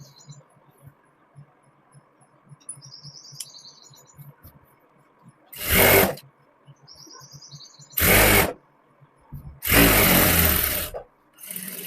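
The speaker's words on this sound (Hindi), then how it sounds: "अब लास्टिक को अच्छे तरीके से घींचते हुए मैं इसमें सिलाई लगा दूंगी।" A sewing machine stitches elastic onto a palazzo in three loud close bursts of running, separated by quiet stretches with faint chirps and a low hum.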